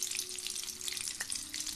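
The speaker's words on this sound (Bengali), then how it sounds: "তেলটা গরম হলে বাটারটা দিয়ে দেবো।" Butter melts into hot oil in a pan while Afghani chicken gravy is being cooked, producing a faint, steady, crackling sizzle throughout the short stretch with no one speaking.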